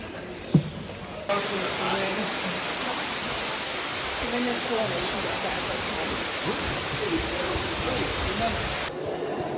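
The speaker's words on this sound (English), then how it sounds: "That was a lovely little waterfall." A small waterfall inside a sandstone and dolomite cave in Scotland roars with a steady, dense rushing of water that starts abruptly after a brief quiet moment and fills the space evenly.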